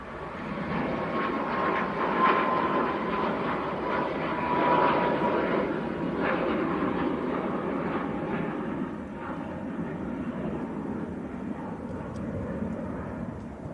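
A Ryanair jet airliner rolls for takeoff at Manchester Airport, giving a steady, broad engine roar that stays loud and constant throughout, with a slight swell midway and no clear talking.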